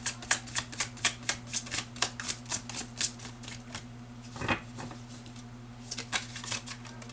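Tarot cards being shuffled, a quick regular run of crisp riffling flicks for the first few seconds, then a pause and a few more softer flicks, close up over a steady low hum with no talk.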